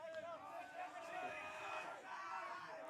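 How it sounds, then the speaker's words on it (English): Excited crowd noise at a men's open club national softball grand final, cheering and shouting that swells and fades with a commentator talking over it. "Crowd now getting rowdy."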